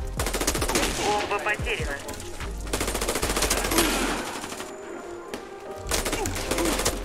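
AK-Alfa rifle gunfire in a video game, loud rapid automatic bursts in several runs separated by short pauses, and a voice briefly speaks between them.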